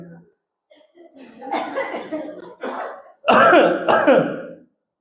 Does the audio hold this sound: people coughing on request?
yes